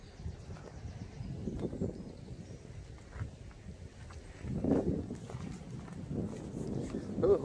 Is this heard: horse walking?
yes